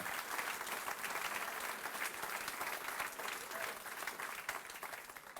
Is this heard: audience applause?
yes